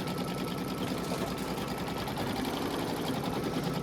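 An embroidery machine stitching a tack-down line on ornament fabric makes a fast, even, close mechanical whirring hum that holds steady throughout with no talk.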